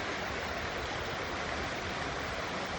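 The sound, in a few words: stream water flowing over rocks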